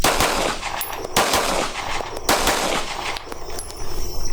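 Pistol shots fired in double taps at a series of targets on a practice range, loud sharp cracks in quick pairs with echoing reports between them.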